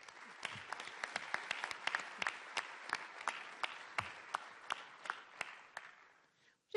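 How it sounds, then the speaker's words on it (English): Scattered, moderately quiet clapping from a small audience at a city committee meeting, individual claps audible within a light patter that gradually thins and fades out. "We're actually clapping because you arrived"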